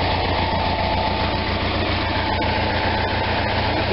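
An Onan RV generator engine idles close by, a loud steady low rumble with an even throbbing pulse and no pauses or talk.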